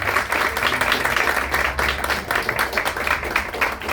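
A room audience at a book presentation gives the editor a round of applause: dense, even clapping from many hands that keeps going for several seconds without fading.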